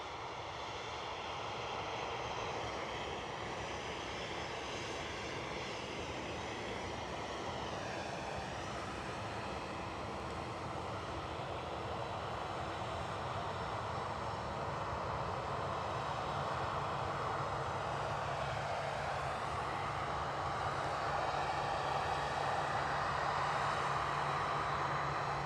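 United Airlines jet inbound on its Washington flight to Edinburgh Airport, a continuous distant engine rumble and whine that builds slowly in loudness across the clip, with no talk.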